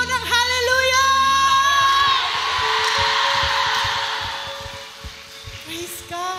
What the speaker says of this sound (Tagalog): Alam nyo, yung sigaw nyo, napakasarap sa tenga ng Panginoon yan.